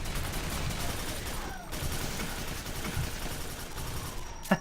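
Sustained gunfire from a futuristic shooter game, Quake 4, fills the whole stretch as a dense, steady battle din with no clear individual shots, ending in a sharper report near the close.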